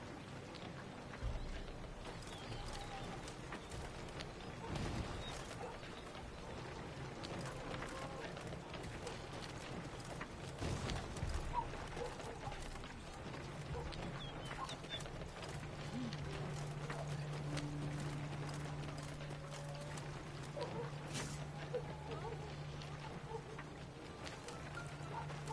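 Horses ride in at a gallop in Thronebreaker: A Witcher Story, their hooves drumming in a quick, uneven clatter at moderate distance, mixed with faint mechanical clanks and a low sustained tone as the riders draw near.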